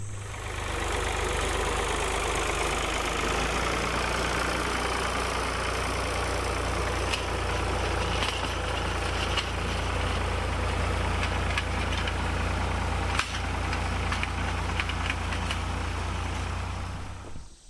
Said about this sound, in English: I'm going to run through here, and it'll just tear the soil up down 6 or 8 inches deep